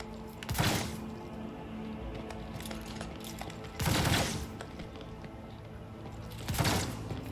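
Three separate bursts of gunfire from the Warhammer 40K Rogue Trader video game as a mutant gunner is shot at, each a sharp, loud volley spaced a few seconds apart over a low game-ambience bed.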